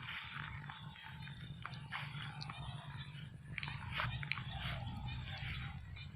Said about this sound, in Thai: ฟังเสียงเขียดไปน้ำนี่ครับ